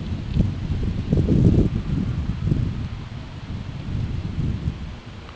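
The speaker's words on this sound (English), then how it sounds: "About 10 mile an hour wind today." Steady wind of about 10 mph blowing around a small wind turbine outdoors, a broad rumbling, gusting rush that swells and eases throughout without any voices.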